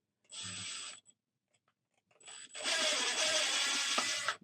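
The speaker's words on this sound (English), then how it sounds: "I'm just going to go ahead and come in with some pan head screws" A power driver sets pan head screws into a plastic skeleton skull, two bursts of high whirring with a short run, a pause, then a longer loud grinding drive as the screw bites in, close up.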